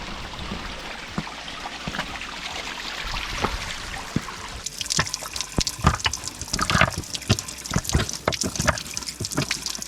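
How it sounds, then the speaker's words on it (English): A trickling mountain stream on a wet hillside ridge in North Wales gives a continuous close babble of running water, growing busier and louder halfway through with dense splashing and gurgles, and no voices. "You're constantly surrounded with a trickle of water,"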